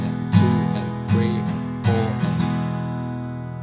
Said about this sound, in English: we're just going to constantly just be strumming with down strums at 8th notes